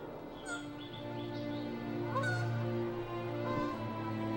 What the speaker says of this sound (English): These Canada geese spotted the oasis and made it home.